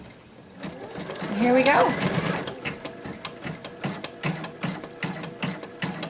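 A ScanNCut machine stitches out a quilt applique: a rising mechanical whir gives way to a steady, rhythmic stitching pulse, close by, with a person speaking briefly at the start.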